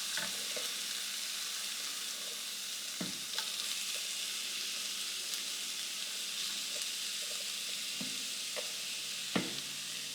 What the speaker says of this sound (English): give them a quick saute